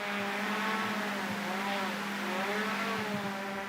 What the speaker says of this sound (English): That's the sound of a drone making its descent into the prison.